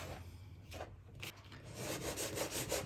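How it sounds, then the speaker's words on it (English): Butter is rubbed into flour by hand, giving faint, soft, continuous rustling and gritty rubbing close by, with no speech. "you want to rub the fat into the flour until it resembles breadcrumb"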